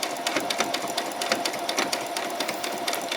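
Close by, a domestic sewing machine runs in a fast, even clatter of needle strokes. The rhythmic mechanical chatter stays steady throughout, with no talk over it.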